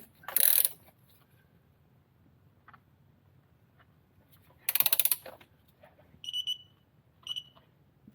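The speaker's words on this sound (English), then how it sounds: "we'll turn on this torque wrench" A torque wrench set to 37 foot-pounds clicks and ratchets while tightening the oil drain plug on a Porsche 981 Boxster/Cayman, giving a few short, crisp metallic clicks with sharp bursts in between, close and without speech.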